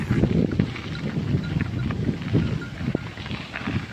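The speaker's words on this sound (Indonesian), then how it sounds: "anginnya berembus-embus" Gusty wind buffeting the microphone while cycling outdoors, a continuous low rumbling roar with rising and falling surges, close and fairly loud.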